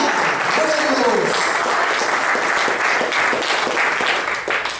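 A church congregation at a sermon breaks into loud, sustained applause, a dense continuous roar of clapping with voices calling out in the mix, close and full throughout.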